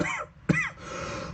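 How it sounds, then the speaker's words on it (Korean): Two hoarse, short coughs from a person, close and fairly loud, the second sharper and followed by a brief raspy throat sound. "기침을 많이 해서"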